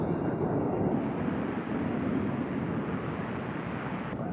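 Steady, broad jet roar of an airliner at Nashville International Airport, moderately loud and unchanging across the stretch, heard alone without talk.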